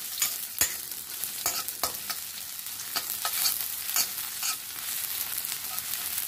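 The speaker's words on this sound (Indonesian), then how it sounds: "Kemudian ini saya sudah tumis bawang merahnya. Dan saya akan aduk seperti ini ya teman-teman, supaya matangnya rata." Sautéed shallots are stirred in a thin wok over a steady sizzle, with a spatula scraping and knocking against the metal in irregular close strokes, no talking.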